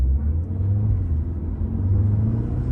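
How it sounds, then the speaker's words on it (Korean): A Renault Captur TCe 260 accelerating on a night drive, a steady low engine rumble heard from inside the cabin, building gently without voices. "여기서 조금 빨리 가속해봐"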